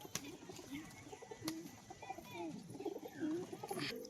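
Domestic pigeons coo in a series of soft, low, rolling calls close by, repeating irregularly over faint background noise with a few sharp knocks.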